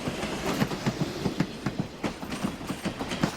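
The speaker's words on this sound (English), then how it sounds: "The train doesn't go very fast, and I get a kick out of the guy on the bicycle following the train toward Cumberland." Slow-moving train rolling toward Cumberland along a rail trail, its wheels giving a steady clickety-clack of regular rhythmic clunks over the rails, fairly close and continuous with no voices.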